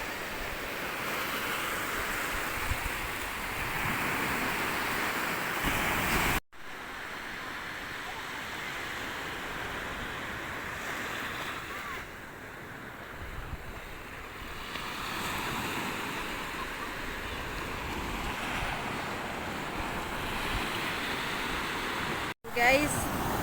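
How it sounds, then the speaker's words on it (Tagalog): Pacific Ocean surf washing onto the shore in a steady broad roar with wind rushing past the microphone, briefly cut out twice. "minsan merong malaking alon"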